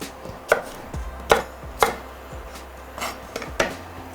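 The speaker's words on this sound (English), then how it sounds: "I'll just cut the rest of this apple." A knife chops through an apple on a cutting board for a crumble, about seven sharp knocks at an uneven pace, close and clear with no talk.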